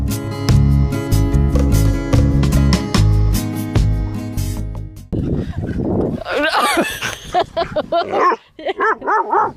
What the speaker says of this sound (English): the smartest dog in history